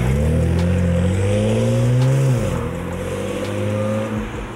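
A BMW 335i accelerates on a drive, its engine note climbing steadily in pitch through the gear, then dropping at an upshift and rising again, loud and close.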